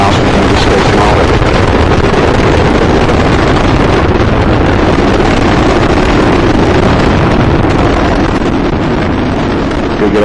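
Space Shuttle Discovery's main engines during the STS-116 launch from Kennedy Space Center give a continuous, loud, broadband roar with heavy rumble, steady for the whole stretch and unbroken by any talk.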